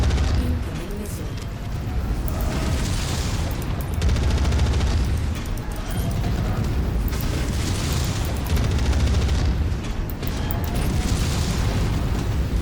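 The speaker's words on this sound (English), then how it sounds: "Incoming missile." Missile explosions in MechWarrior 5: Mercenaries, booming and crackling continuously over a dense roar of battle noise, with a voice speaking briefly.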